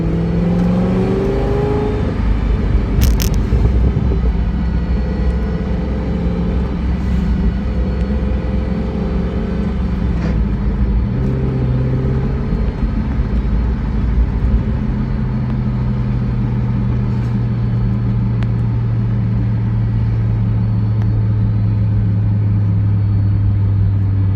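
A Chevrolet Corvette C6 drives from the cabin, its engine rumbling and revving through gear changes, with steady road and engine drone close and loud for the whole stretch.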